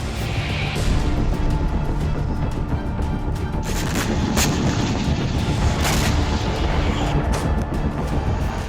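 Bombardment explosions from the war between Russia and Ukraine, a dense, continuous rumble of heavy booms and blasts that stays loud throughout, with sharper bursts standing out now and then.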